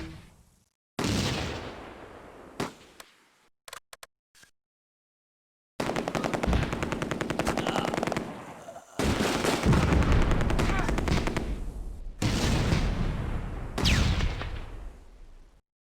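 Mortar and gunfire in the Close Combat wartime strategy game: rapid machine-gun bursts and sharp shots come in loud clusters separated by silent gaps, with heavy booming impacts between them.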